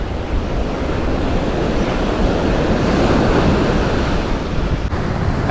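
Strong wind roars steadily on a beach during surf fishing, loud and continuous buffeting that blends with the rush of surf, with no voices heard.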